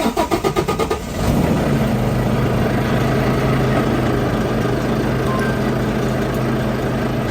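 Semi truck diesel engine cranking in rapid rhythmic starter pulses for about a second, then catching and settling into a loud, steady low idle rumble.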